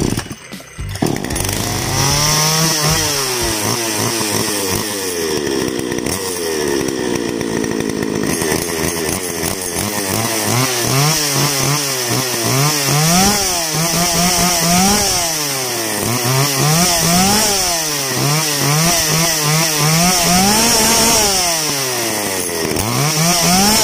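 Chainsaw engine started after a clutch assembly was reworked, then running steadily and loudly for the whole stretch, its pitch rising and falling repeatedly as the throttle is revved and eased.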